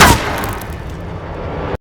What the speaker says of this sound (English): Before the soldier can finish him off, another gunshot echoes.